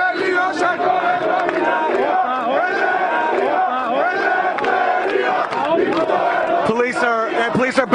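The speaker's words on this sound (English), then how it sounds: "They're chanting and clapping, and they're asking them to leave the square." Protesters in a public square during a general strike chant together with clapping, a loud, continuous roar of many voices filling the scene.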